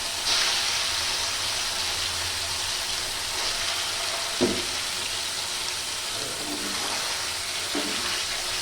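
Chitol fish dumplings (muitha) fry in oil with a steady, moderate sizzle. A few brief clinks and stirring sounds occur partway through, and no one speaks.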